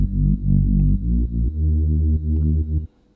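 A Reese bass built in Serum for a UK garage track in Ableton plays low, sustained, detuned notes that shift pitch in a short phrase, loud and alone, before cutting off.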